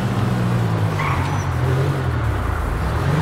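A car engine in GTA V drones and revs steadily at close range, with a low, constant roar and road noise for the whole stretch and no voices.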